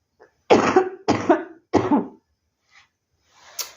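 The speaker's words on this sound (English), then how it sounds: "I wanna cough and I'm holding it back. Can I cough?" Three harsh coughs come in quick succession, close and loud, followed by a faint throat sound and a short breath afterward.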